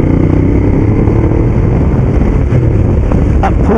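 A Ducati Diavel Black Carbon motorcycle accelerating hard in sport mode from about 30 mph in third gear: loud, close engine roar with strong low rumble and wind buffeting, rising steadily without pause.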